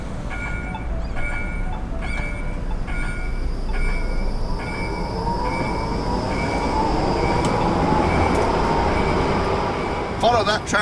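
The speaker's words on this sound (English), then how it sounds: "Oh look, you can get a shot of the tram here." A street tram rolls past with a rising rumble of wheels on rails, a faint squeal building toward the end, and a regular pattern of beeping tones repeating throughout, heard from the street nearby.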